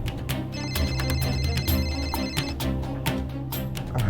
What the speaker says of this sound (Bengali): কেন ফোন করছে আমাকে?